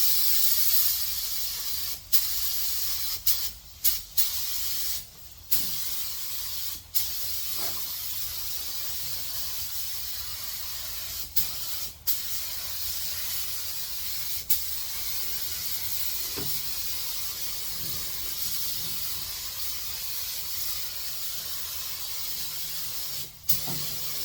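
A spray gun fed by an air compressor hisses steadily while paint is sprayed in the engine bay of a Saleen S351, a continuous close airy rush broken by several short pauses.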